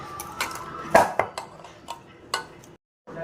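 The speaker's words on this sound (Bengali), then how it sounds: "এবার এটাকে ভালো করে মেখে নেব।" Flour dough being kneaded with ghee in a metal bowl, with irregular knocks and clinks against the bowl, a few louder taps, and a short pause before the sound resumes.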